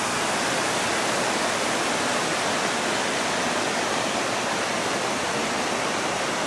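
Spring meltwater pours into a pool at Parfrey's Glen, a loud, constant rushing roar of falling water close by, with no voices over it.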